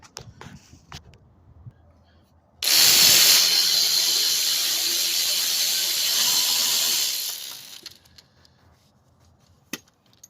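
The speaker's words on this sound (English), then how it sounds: "Tightening up all these bolts on the compressor." On a 2016 Kia Sorento, compressor bolts are tightened with what sounds like a power tool, a loud continuous whirring hiss of about four seconds between faint clicks and handling noises.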